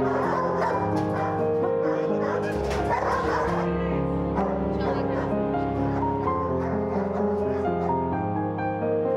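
Ivar, a guard dog, gives excited yips and whimpering barks, close and loud, mixed with people talking throughout.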